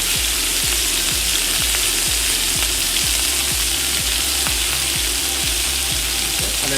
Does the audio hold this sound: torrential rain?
no